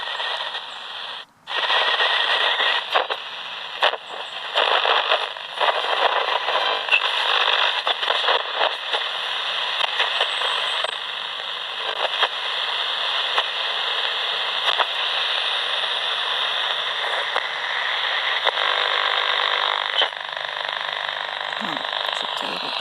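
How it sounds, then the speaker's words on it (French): A small AM radio hisses and crackles with broadband static while being tuned across the band, a steady loud noise with brief dropouts and clicks. "Allez, on va balayer les ondes. Donc je suis sur AM."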